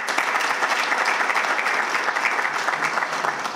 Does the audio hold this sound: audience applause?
yes